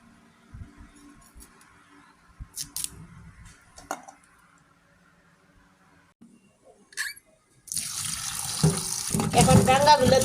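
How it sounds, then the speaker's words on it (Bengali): Cut vegetable stems are washed in water. Soft handling knocks and clatter come first, then a tap runs steadily with water splashing close by over the last few seconds. "এখন ডাঙ্গাগুলো ধুতাছি, ধুয়ে সুন্দর করে রান্না করব"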